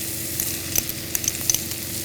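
Chopped garlic hitting hot oil already seasoned with asafoetida gives a soft, steady sizzle, with a few sharp crackles and spits popping out close by.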